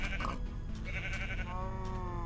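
Sheep in a blocky video game bleat in a wavering, nasal cry, one clear call followed by another softer bleat, loud and close over a steady background hum with no talk.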